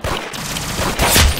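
Gunfire in the Roblox game Arsenal, a rapid, loud, close burst of shots running the whole short moment, ending in a heavier bang.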